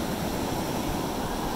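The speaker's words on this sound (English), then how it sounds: "the waves are really big today" Big ocean waves on a beach, heard as a constant broad wash of surf with no distinct breaks, moderately quiet and steady like rushing water.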